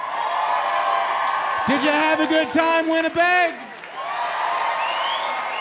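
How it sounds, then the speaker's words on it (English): A Winnipeg Folk Festival crowd applauds and cheers in a steady wash of noise at the close of the weekend, while an announcer on the PA addresses the audience partway through. "A round of applause for every single artist who performed this weekend."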